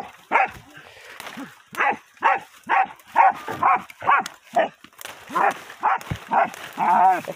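Hunting dogs on an armadillo hunt bark in repeated sharp, loud bursts with excited yips, close by, with brief pauses between volleys.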